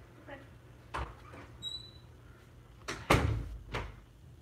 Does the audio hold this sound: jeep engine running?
no